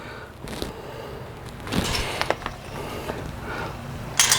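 A DB4e antenna clamp is tightened onto a mast, giving small ratcheting mechanical clicks and scrapes close by, with a louder metallic snap near the end.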